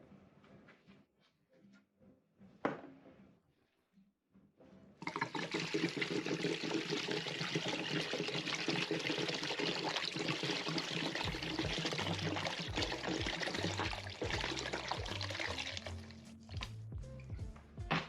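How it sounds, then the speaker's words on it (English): Water pours steadily and loudly into a pot of borscht for over ten seconds, a continuous rushing splash after a few quiet clinks. "So I added more water here"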